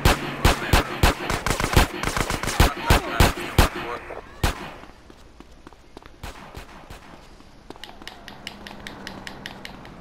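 Rapid bursts of gunfire from Grand Theft Auto: San Andreas, loud sharp shots in quick rhythm for several seconds, then sparser scattered shots with background game noise.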